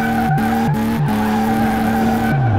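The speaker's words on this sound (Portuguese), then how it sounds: "Ó o motorzão de Porsche" A Porsche turbo engine swapped into a black Volkswagen Beetle in Car Mechanic Simulator, running loud and steady with a droning tone broken by a few quick revving dips before the pitch falls away at the end.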